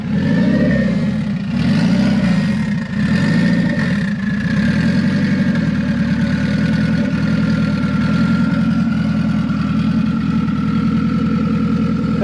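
The engine of a Toyota MR-S MR2 Spyder is started and revved in a few quick blips. It then settles into a steady, loud idle heard up close, with no one speaking.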